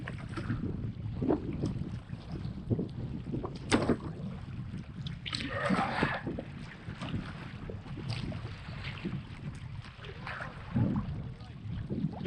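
Kayak paddle strokes dip and splash on open water around an island on a camping trip, a steady rhythm of soft watery swishes close by, with wind buffeting the microphone throughout.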